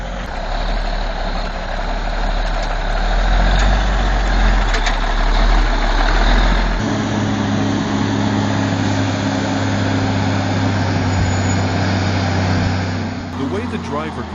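A Tatra truck loaded with tons of wood climbs a steep slope, its heavy diesel engine droning steadily and loud, the low rumble shifting into a higher, strained tone partway through as it labors uphill.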